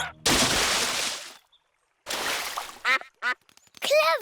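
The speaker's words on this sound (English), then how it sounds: "What was that big splash?" A big splash into a duck pond as Daddy Pig uses it to stop himself rolling downhill, a loud broad wash of water lasting about a second, then after a pause more splashing and several loud cartoon duck quacks close by.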